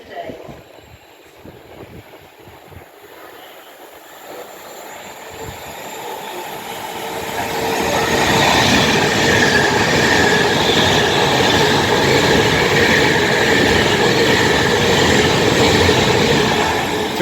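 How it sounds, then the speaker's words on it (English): An electric Pendolino on a Birmingham International to London Euston service passes through Rugby station. A faint rumble builds after several seconds into a loud, steady roar with rail hiss as the train runs by. "we have a Pendolino running from Birmingham International to London Euston"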